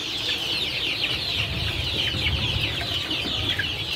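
Kampung Sentul chickens, about 35 birds in a rearing pen, cluck and chatter in a busy, continuous flock noise, close and steady throughout.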